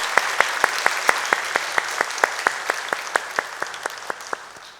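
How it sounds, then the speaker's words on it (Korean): A congregation at a Sunday church service claps in steady rhythmic unison, about twenty evenly spaced claps over a wash of applause that fades slightly toward the end. "하나님께 영광의 박수 올려드리겠습니다"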